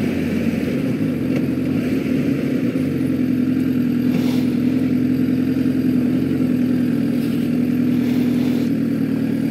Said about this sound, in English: big truck.